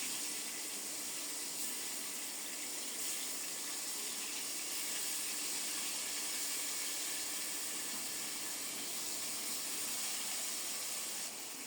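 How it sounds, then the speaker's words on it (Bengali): Pointed gourd (kakrol), salted and rubbed with turmeric, fries in hot oil in a pan, giving a steady, dense sizzling hiss that stays even and fairly loud throughout with no talking. "প্রথমে আলুগুলো ভেজে নিয়েছি, এখন কাঁকরোল ভেজে নেব। লাল লাল করে ভেজে নেব।"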